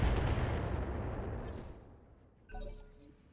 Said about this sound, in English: just continue to fire the one LRM-15